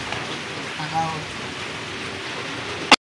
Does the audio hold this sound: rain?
yes